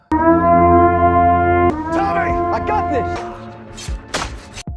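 A loud, steady siren signaling the end of a purge wails for a couple of seconds, then gives way to shouting voices, thuds and movement sounds.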